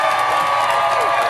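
A large crowd at a Sarah Palin political rally cheers and applauds in a steady, continuous roar, with shouts rising above it.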